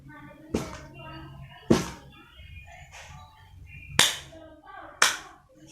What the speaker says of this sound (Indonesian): Kita memperhatikan refleks Moro dengan memberikan rangsangan suara keras melalui tepuk tangan atau gebrakan.